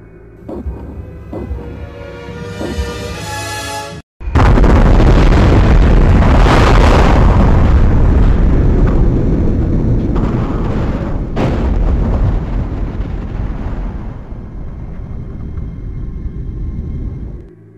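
A gun turret fires in a video game trailer with a sudden loud blast and sustained roaring barrage, preceded by quieter mechanical humming and broken by a brief drop partway.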